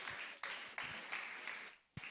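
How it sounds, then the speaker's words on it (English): Applause from an event audience greeting a media creative and event compère as he is welcomed to the stage, steady broadband clapping with short dips and surges, at moderate distance in a hall. "Please, a round of applause for Oluwaseun Olaniyan."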